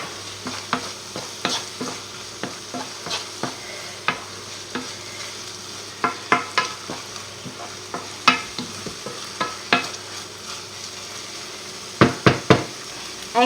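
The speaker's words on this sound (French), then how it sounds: "Là, on remue." A utensil stirs pepper and herbs in a pan for a three-cheese soufflé, giving repeated close scrapes and knocks in an uneven rhythm over a soft sizzle.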